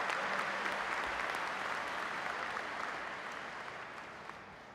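An audience at a Livonia Public Schools board meeting claps in steady, dense applause that tapers slightly toward the end.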